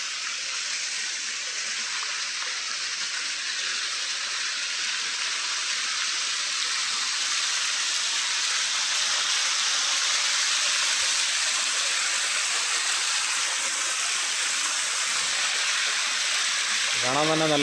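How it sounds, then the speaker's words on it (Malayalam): A waterfall near Kumbichal Bridge Road, Amboori, fed by a stream from Kurishumala, gives a continuous even hiss-roar of falling water that holds steady throughout, with a short tonal sound right at the end. "അരുവി ഒഴുകി വെള്ളച്ചാട്ടമായി മാറി ഇവിടെ പതിക്കുന്നത്."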